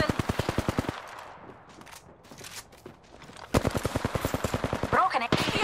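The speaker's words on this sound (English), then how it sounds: "We're shooting!" Two loud bursts of rapid automatic gunfire from the video game Apex Legends, with a quieter gap between them and other in-game sounds.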